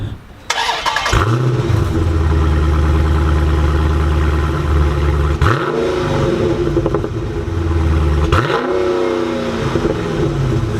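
A 2015 Dodge Challenger Scat Pack muscle car engine roars loud and close, revving hard through three rising acceleration pulls separated by brief gear-change dips, with no talk.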